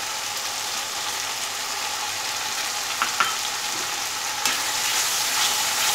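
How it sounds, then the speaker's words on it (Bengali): Powdered spice masala fries in oil in a pan for a dhaba-style paneer dish, making a dense, continuous hiss of sizzling that stays close and even, with a few faint stirring knocks near the middle and end. "জিনিসটাকে ভালো করে একটু ফ্রাই করে নেব।"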